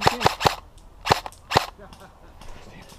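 Airsoft guns snap off five sharp, close BB shots in a quick cluster and then a pair, at an outdoor airsoft game, with faint voices murmuring afterward.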